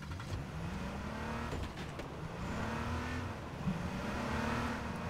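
A car in the H1Z1 King of the Kill video game drives along, its engine droning and rising in pitch through repeated revs and shifts, loud and close, with no talk over it.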